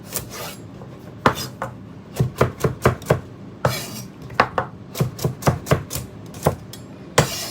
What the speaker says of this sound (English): We're going to cut a carrot up.